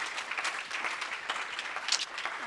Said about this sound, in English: All right, can I get a warm round of applause for Desda?